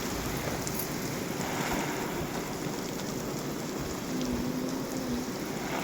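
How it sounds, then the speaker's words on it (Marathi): Water sprayed onto tall, shady garden trees makes a steady, close hiss like heavy rain pattering on leaves, continuous and even throughout with no talk. "आणि असं पाणी मारायला किती मस्त वाटतंय झाडावर"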